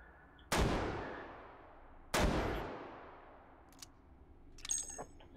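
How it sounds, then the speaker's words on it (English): Two heavy-recoil gunshots fired in a VR game, Hot Dogs, Horseshoes & Hand Grenades on HTC Vive, each a sharp loud blast with a long decaying tail, about a second and a half apart, followed by faint clatter. "you really need to space out your shots because the recoil on this thing is just"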